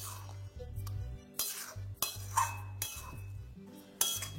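A spoon works dough in a pan on a gas stove, making intermittent scrapes, knocks and metallic clinks against the pan over a low steady hum, close and moderately loud, with no voices.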